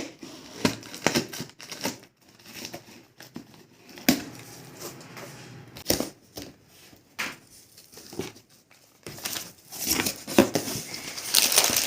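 A gift hamper of cakes and biscuits is unwrapped close by, with irregular bursts of crinkling wrapper, rustling and tearing, separated by brief quiet gaps.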